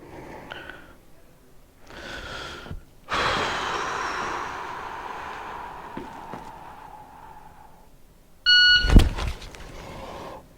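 Several breaths and gasps, then a sharp electronic shot timer beep on a shooting range, followed by a quick burst of loud handgun shots near the end.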